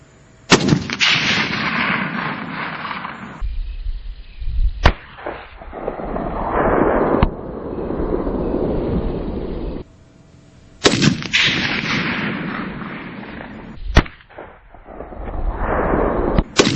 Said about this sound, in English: Ridiculously accurate. That's a perfect shot.